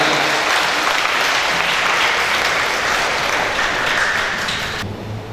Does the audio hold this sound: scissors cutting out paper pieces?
no